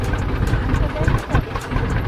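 A tractor engine rumbles steadily and close by, a low continuous chugging throughout the short stretch.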